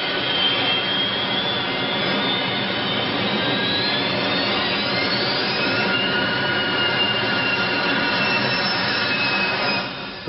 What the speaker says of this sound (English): the pilot gunned the jet's engines to keep the nose off the ground until the last moment